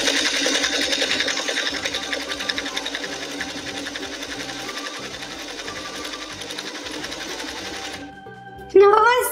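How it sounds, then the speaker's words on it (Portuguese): A toy blender whirs steadily while mixing strawberry baby food tinted with pink food colouring, a constant buzzing motor drone that stops near the end, followed by a short clatter. "Colocar no meu liquidificador."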